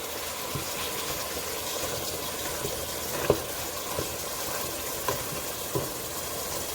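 Ground meat seasoned with garlic powder browns in a pan for unstuffed cabbage rolls, giving a steady soft sizzle with a few light scrapes and clicks from stirring, no talking.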